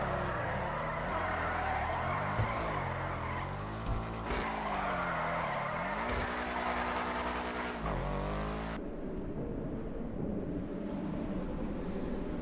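A Benefactor car in GTA 5 drifts sideways with a long, continuous tire squeal over a droning, revving engine whose pitch rises and dips through the slide before cutting off near the end.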